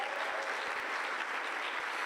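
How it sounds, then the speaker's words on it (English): Applause at a formal event with distinguished guests, dense and steady for the whole stretch, with no voices on top. "I think we can give them another round of applause."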